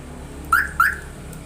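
A universal car alarm siren rigged on a table gives two short rising chirps in quick succession, loud and close, over a low steady hum.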